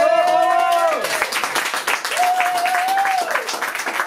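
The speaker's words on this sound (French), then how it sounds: "on peut les applaudir quand même" Applause from an audience at a slam poetry evening in Antibes rolls on steadily while a voice calls out over it with drawn-out tones.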